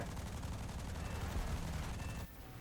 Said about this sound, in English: I aim my guns, and at the perfect moment, I fire.